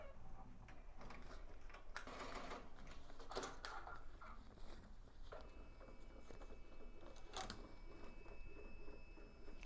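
Embroidery machine stitching the last thread colors of a design, giving a continuous fast mechanical patter and rattle at low volume, with a few brief clicks and no voices.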